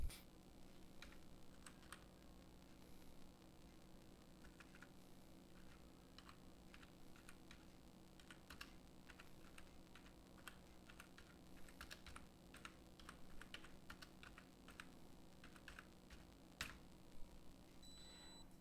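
Typing an address into an online scholarship form on a computer keyboard, with soft, irregular key clicks in short bursts over a low steady background hum, faint and close, with no talking.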